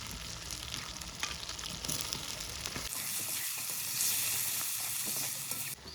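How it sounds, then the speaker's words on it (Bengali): Cut potatoes with turmeric and chili powder sizzle in a pan while being stirred, a continuous close frying hiss with scattered scraping bursts that brightens partway through. No one speaks. "এই যে ভালো করে কষানো হয়ে গেছে এখন আমার আলু আর মশলা"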